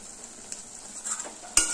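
Okra sizzles softly in mustard oil in a pan while being stirred. Faint scraping and frying noise build, then end in a sharp clink of utensil on metal.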